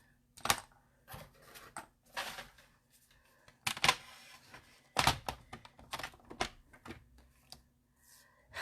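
Card stock being cut in half for a craft card base, a series of sharp clicking, thunking cuts and scrapes in quick irregular bursts, close and fairly quiet.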